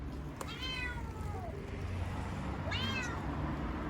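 A ginger Turkish stray kitten gives two clear, high, drawn-out meows, close and distinct, separated by a pause, over a quiet outdoor background.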